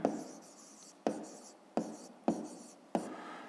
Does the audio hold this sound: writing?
yes